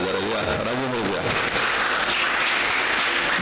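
Voices fade out as an audience at a community gathering in Pimpri-Chinchwad breaks into applause, a steady wash of many hands clapping that swells and holds to the end.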